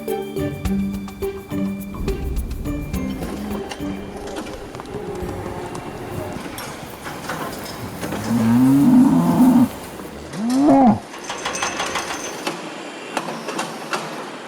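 Several cows moo in the middle of the clip, long low drawn-out calls, with another short moo after them over steady barn noise and clatter.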